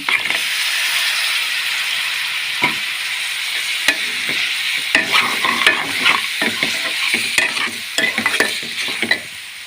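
Boiled mutton pieces drop into ginger paste frying in a pan for gongura mutton curry, a loud close sizzle broken by repeated sharp spatula scrapes and clacks against the pan.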